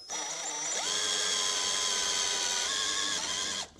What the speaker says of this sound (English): Now I just heard the nut spin, and I've drilled it off, and there it comes.